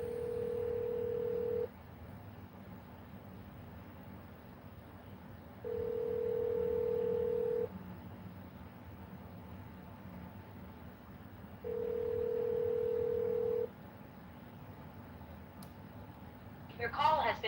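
Telephone call tones: three steady ringback beeps of about two seconds each, spaced several seconds apart, over a low background hum, with a brief burst of noise at the end.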